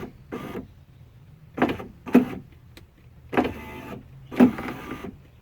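BMW E36 power window regulator motor driving the window in short whirring bursts, a brief strained grinding run after each pause, several starts and stops close by, with no talking.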